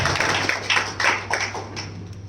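Scattered light clapping from a small group, a few quick bursts of claps over a steady low hum.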